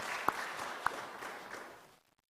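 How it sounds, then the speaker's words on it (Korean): A church congregation applauds during a Sunday worship service, with moderately quiet clapping spread through the hall and a couple of sharper hand claps standing out, tapering away to silence after about two seconds. "박수로 한번 축복해 드립시다."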